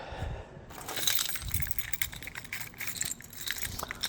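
Keys jangle and clink close by, a busy metallic rattling that continues throughout with small shifts in loudness.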